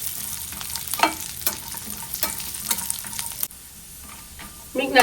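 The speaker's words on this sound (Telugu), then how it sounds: "ఇలా ఇది బ్రౌన్ కలర్ వచ్చేంత వరకు ఫ్రై చేసుకోవాలి" Dry fruits fry in a pan for carrot halwa, a close steady sizzle punctuated by regular stirring scrapes, the sound briefly quieting before a louder burst at the end; no voices.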